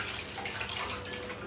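Tap water runs steadily nearby as hands are washed, a brief continuous splashing hiss.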